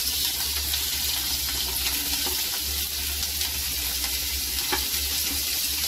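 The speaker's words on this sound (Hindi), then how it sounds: "अब हम अपने वेजिटेबल फ्राई करेंगे एकदम लाइट।" Vegetables fry lightly in a spoonful of oil, keeping up a constant dense sizzling hiss with faint stirring ticks and a low steady hum underneath, and no talking.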